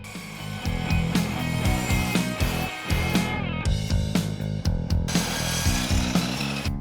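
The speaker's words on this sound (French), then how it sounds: "Pour ça, on scie d'abord la planche pour obtenir un joli côté." Sawing through a spruce board by hand, a rapid rough rasp with repeated strokes, close and loud.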